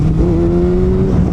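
A Kawasaki ZX6R 600 sport bike with a flashed ECU holds a loud, steady exhaust rev, a close droning engine tone that rises slightly and sustains for about a second.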